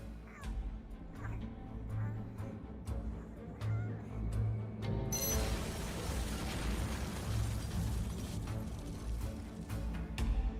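A bomb blows up a building in the video game The Incredible Adventures of Van Helsing, a loud broadband blast about halfway through that rolls into sustained rumbling debris over a busy game soundtrack with sharp clicks.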